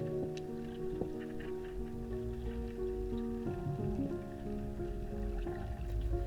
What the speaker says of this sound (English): That little ticking noise you can hear, that's your transducer pinging down through the water column.